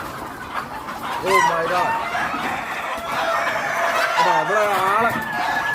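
Native chickens on an Arab-owned farm cluck and a rooster crows repeatedly, nearby and prominent, with a person briefly exclaiming over the birds.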